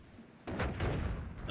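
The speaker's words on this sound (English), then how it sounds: "Oh, it's a bomb." A bomb goes off in the video game Noita, a sudden heavy boom followed by a rumbling burst that fills the short moment, loud and close, with a voice briefly underneath.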